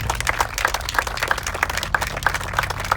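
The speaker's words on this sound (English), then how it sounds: "round of applause" Scattered clapping from a small group, steady and moderate in volume, with no voices over it.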